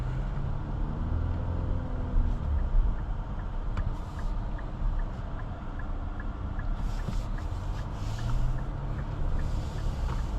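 Steady road and engine noise from a 2027 Infiniti QX60 Sport on the move, a continuous broadband rumble heard from inside the cabin, with brief higher hiss and swells near the end.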